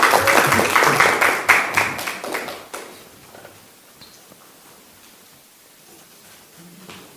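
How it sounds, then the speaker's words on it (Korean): Applause at an outdoor Democratic Party political rally in Chuncheon, Gangwon, welcoming a gubernatorial candidate: a burst of crowd clapping for about three seconds that fades into quiet ambient murmur. "큰 박수로 맞아주시면"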